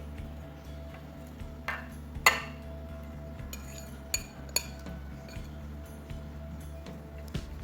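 Shrimp being mixed into corn fritter batter in a bowl, with scattered light clinks and scrapes of a utensil against the dish over a faint steady background hum.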